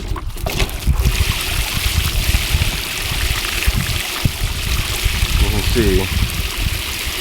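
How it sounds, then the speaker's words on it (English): Water rushes steadily into a container for washing cows with soap, a loud, continuous splashing flow, while a person speaks briefly near the start. "Water's filling up."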